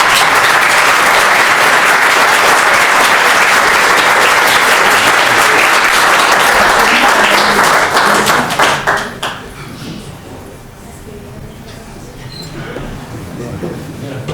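A geology lecture audience claps loudly and steadily after a commemorative talk, a dense close applause that dies away abruptly about nine seconds in, leaving quieter room noise and murmuring.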